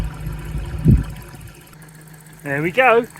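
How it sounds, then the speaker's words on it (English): A Dethleffs Globetrotter Esprit motorhome engine idles as a low, steady background hum throughout, while a person speaks briefly near the end. "You can hear the engine running in the background."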